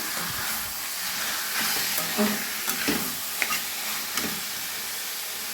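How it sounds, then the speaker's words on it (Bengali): Taro leaves and tomato pieces frying with spices, a steady hiss of hot oil with a few scraping stirs and light knocks of a utensil against the pan, heard close. "কয়েক টুকরো টমেটো দিয়ে দিলাম মশলার সঙ্গে ভেজে নেব এবারে কচু শাক দিয়ে দিলাম"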